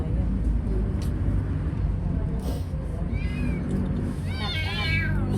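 Cat meowing in short rising cries near the end, over a steady loud rumble of road traffic with voices talking in the background.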